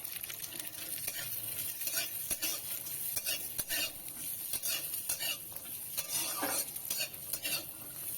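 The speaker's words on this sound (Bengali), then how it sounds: "আমি সামান্য ঘি দিয়ে প্রথমে আমি কাজু কিশমিশটা একটু নেড়ে নেব" Cashews and raisins stirred in a little ghee in a pan while making bhuna khichuri, giving a quiet, continuous sizzle with frequent clicks and scrapes of a metal spoon against the pan.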